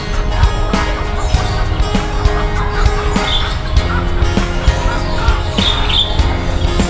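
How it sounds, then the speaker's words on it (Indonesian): Guinea fowl at the Surabaya zoo give repeated harsh squawking calls in a loud, busy outdoor setting, with sharp cries standing out over constant background noise. "Ini ayam mutiara nih. Ayam mutiara."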